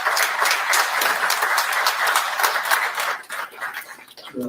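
Audience applause for township employees at a Thornton Township meeting, a dense, steady wash of many hands clapping that thins and fades toward the end.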